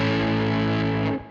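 A loud, heavily distorted electric guitar chord with a third added to the power-chord shape, in a punky style, rings out steadily alone and then is cut off near the end.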